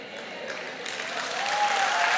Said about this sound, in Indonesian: dibela langsung tepuk tangan